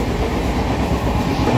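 Steady rumble and rhythmic clatter of a moving AC passenger train running between Digha and Howrah, loud and continuous with no voices.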